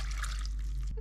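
A cup of vinegar pours into a pan, a brief soft splash and trickle lasting about a second, fairly quiet.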